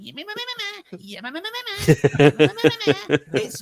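A voice imitates Stevenson's Rocket steam locomotive with a run of rhythmic, wavering vocal puffs and chuffs, close and loud, beginning with drawn-out tones and breaking into rapid repeated bursts.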